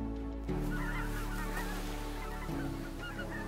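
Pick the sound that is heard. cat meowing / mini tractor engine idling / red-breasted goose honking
red-breasted goose honking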